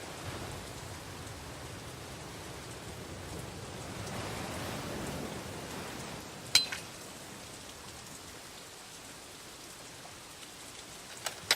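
Steady, soft rainfall in a video game, a faint continuous patter with a few small, sharp drips or taps standing out near the end.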